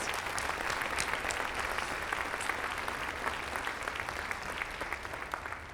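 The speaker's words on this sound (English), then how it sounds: "How about another nice round of applause for Zach Garrett?" Steady, fairly quiet applause from a concert audience at a fall concert, continuous clapping with no talk.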